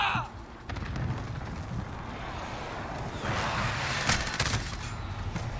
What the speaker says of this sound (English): Enemy cluster strike incoming. Take cover. Enemy precision airstrike.